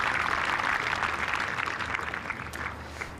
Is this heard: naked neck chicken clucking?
no